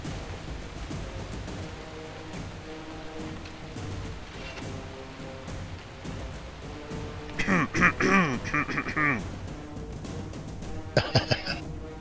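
Several bursts of loud, harsh coughing from a person, close to the mic, over a low steady background hum with faint voices.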